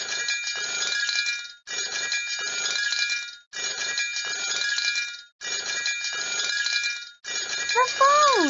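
A cartoon telephone ringing in the Wonder Pets flash video game, five bright trilling bell rings in a regular rhythm with short pauses between them, followed by a brief sliding chime as the last ring ends.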